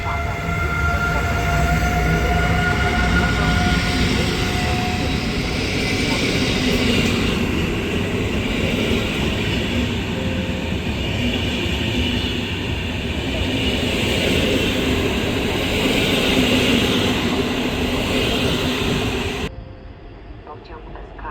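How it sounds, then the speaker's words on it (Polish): An SKM commuter train on line S1 rolls through Warszawa Wschodnia station toward track 21 at platform 7, a loud sustained rumble with screeching wheel and brake tones. A platform loudspeaker announcement plays over it. "Pociąg SKM linii S1 ze stacji Pruszków do stacji Otwonik. Jedzie na tor 21 przy peronie 7."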